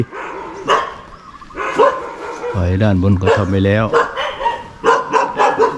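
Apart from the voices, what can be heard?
dog barking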